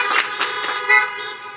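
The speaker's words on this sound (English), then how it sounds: "Thank you for honking" Car horns honk in celebration at an outdoor 2021 college commencement, a sustained chorus of overlapping toots with brief louder blasts, fairly loud and heard without talk.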